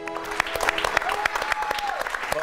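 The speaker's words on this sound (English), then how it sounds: "Good clap it up for that" A studio audience at a live daytime TV show breaks into applause, a brisk, fairly close wash of many hands clapping, with a voice briefly over it.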